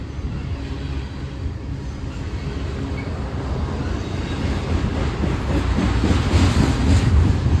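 Union Pacific freight train led by SD70ACE locomotives rolls past close by with a steady heavy rumble and wheel clatter that gradually grows louder, no voices present.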